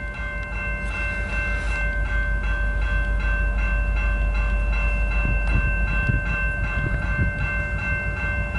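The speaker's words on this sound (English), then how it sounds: "Here comes the train." A CN mixed freight train rolls past up close, eastbound in Port Huron, Michigan, its steady loud rumble joined by sustained horn tones and faint wheel clatter throughout.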